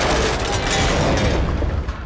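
Gunfire in the video game Quantum Break, a loud, continuous dense roar of shots and rumbling effects filling the whole moment without pauses.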